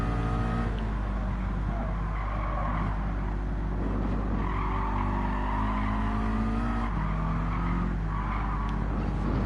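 A road car on sport hard tyres in Gran Turismo 7, its engine droning steadily with rising and falling revs and tyre squeal as it slides through corners, continuous and close.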